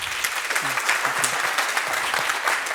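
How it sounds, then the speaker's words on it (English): An audience applauds the panelists at a security policy forum, steady and fairly loud clapping that fills the room, with faint voices underneath. "I think we can give them a hand, a round of applause."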